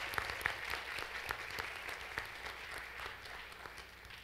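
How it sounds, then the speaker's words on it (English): Applause from the audience at an academic honors convocation, a faint, steady patter of many hands clapping with scattered sharper claps, heard from a distance. "please join with me in a round of applause for all of our students who have earned academic honors"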